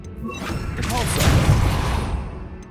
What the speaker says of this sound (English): Repulsor.